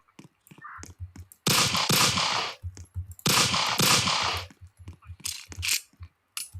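Two loud bursts of rapid automatic gunfire from a video game, each lasting about a second, separated by quieter clicks and small in-game sounds.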